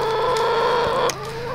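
Backyard chickens cluck in a steady, close, loud stream, with a brief sharper squawk near the end and no talking.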